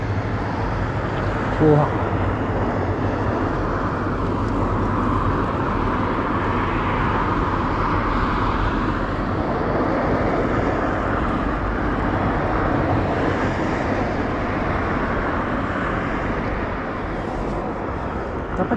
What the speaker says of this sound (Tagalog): Uy, may aeroplano.